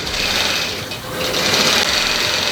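A longarm quilting sewing machine stitches steadily through quilt layers and backing fabric, a continuous close, loud mechanical whir with a fast rhythmic chatter that dips briefly before resuming.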